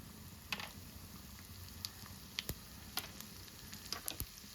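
Cumin, fennel and small ginger pieces sizzle in oil in a kadai with a soft, steady hiss, broken by several sharp pops and crackles. The sound is quiet and close, with no talk.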